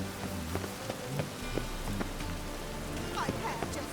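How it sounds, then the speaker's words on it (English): Rain falling in The Witcher 3 video game, a steady hiss of drops on surfaces with scattered soft taps and thuds over a low rumble, continuous and moderately quiet throughout. "The rain will ruin it."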